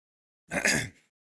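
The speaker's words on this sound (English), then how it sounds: "I didn't mean to clear my throat right in the mic." A single short, rough throat clearing close to the mic, about half a second long, with silence before and after.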